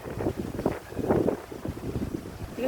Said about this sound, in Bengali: ঝড় উঠে গেছে দুপুরবেলা, ঝোড়ো হাওয়া বইছে জোরে জোরে।